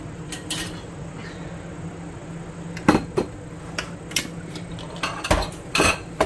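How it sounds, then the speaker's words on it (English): In a home kitchen, a bowl is pulled from a cupboard: sharp clinks and knocks of dishware against shelves, a few scattered close clatters over a quiet background hum. "So let me get a bowl to put this in."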